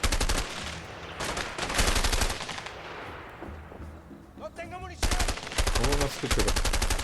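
Rapid bursts of automatic gunfire in the video game A Way Out, loud and close, with a brief lull in the middle where a voice speaks before the firing resumes.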